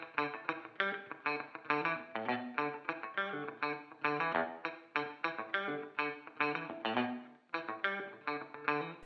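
Electric guitar plays a clavinet riff with muted notes picked near the bridge, producing a choppy, percussive, funky pattern of tight staccato plucks in steady rhythm, with no talking.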